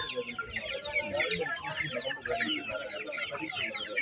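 Laying hens at a country poultry market cluck and call close by in a busy, overlapping chorus, with faint market chatter underneath.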